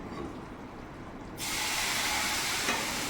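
Hot oil poured into a milk Mysore pak mixture as it is stirred, setting off a sudden loud, steady sizzling hiss midway through, after a quieter stretch of scraping and bubbling.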